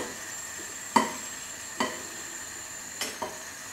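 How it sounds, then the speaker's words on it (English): Spaghetti stirred with a fork in a pot of boiling water, several separate scrapes and clinks over a steady faint bubbling hiss, irregularly spaced and fairly quiet. "Then I just get a fork and periodically burn myself by stirring the spaghetti"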